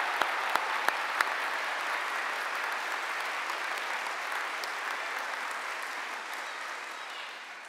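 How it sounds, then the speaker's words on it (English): A hall audience at a London degree ceremony gives sustained, steady applause, a few sharp early claps blending into an even wash of clapping that slowly fades. "Can we give Nick a round of applause?"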